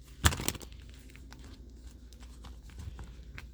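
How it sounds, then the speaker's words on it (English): Tarot cards being shuffled close up, opening with a sharp riffle and snap, then soft papery rustles and light taps that continue quietly with no talking. "the cards are not shuffling super smoothly"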